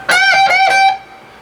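Electric guitar playing a few quick bent notes that slide up and down, with a bright sustained tone fading out at the end.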